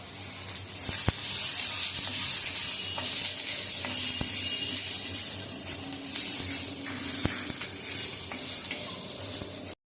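Steady, bright sizzling of curry leaves and garlic frying in hot oil, with a few sharp crackles and spoon clinks over the continuous hiss.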